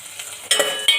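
Upma mixture of cooked tomato and salt stirred in a pan: a second of scraping, rustling strokes with a soft cooking hiss, two louder scrapes near the end.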